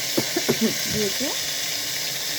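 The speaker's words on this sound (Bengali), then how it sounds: "ঢেকে তারপর ভাজি করছি" Egg with tomato fries in a covered pan with a constant, fairly loud sizzling hiss, while a person talks briefly over it.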